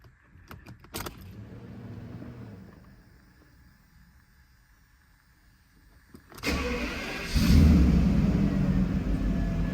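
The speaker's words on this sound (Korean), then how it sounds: "시동 한번 걸어보겠습니다" Keys jangle near the start, followed by a quiet pause; then the V12 engine of a Mercedes-Benz W140 S600 cranks, fires and revs before settling into a steady idle, just after an engine oil top-up.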